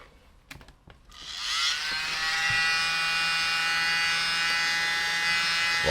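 A small handheld mini blower whirs steadily at close range while blowing out freshly applied hair colour, starting after a few faint clicks and holding a constant high-pitched motor hum to the end.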